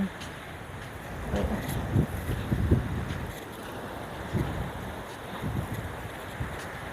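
A strong cool wind blows by the sea at a beach house, buffeting the microphone in uneven gusts over a steady rushing background.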